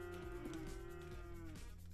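A cow moos in a video game, one long drawn-out low call held for nearly two seconds, loud and close, with no talk over it.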